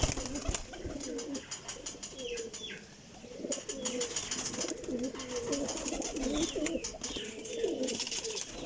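A female French pigeon coos repeatedly in soft rolling phrases at close range, with other birds chirping and fluttering around it in a loft.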